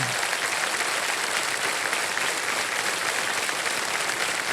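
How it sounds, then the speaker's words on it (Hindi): Steady applause from a studio audience on the set of the Indian TV quiz show Kaun Banega Crorepati, a dense, even wash of clapping that fills the whole stretch with no voices over it. "तालियां बजती रहे इनके लिए"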